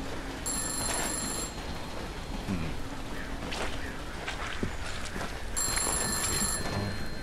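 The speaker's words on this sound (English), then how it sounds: "I hear a phone ringing." In the horror video game I'm Counting To 6, a telephone rings in two bursts of shrill ringing over a steady rain-like background hiss, moderately loud and without talking.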